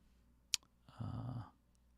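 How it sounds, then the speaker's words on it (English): A single sharp keyboard button click sounds close by, followed by a short electronic tone in an otherwise quiet room. "I'm pressing the wrong button on my keyboard, obviously"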